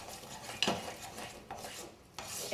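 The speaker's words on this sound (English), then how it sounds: "let me just give this a really good all the way around the bottom kind of stir" Allergy-free toffee being stirred around the bottom of a pot, with a few distinct scraping clinks of the utensil against the pan spaced apart, fairly quiet and close with no talking.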